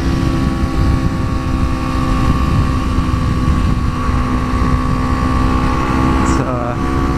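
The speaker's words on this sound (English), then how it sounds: "Here he is 2 weeks later on his Honda Grom, pushing it pretty good." A Honda Grom motorcycle ridden hard on Angeles Crest Highway makes a loud, sustained high-revving engine whine with steady harmonics and wind rush, dipping briefly near the end.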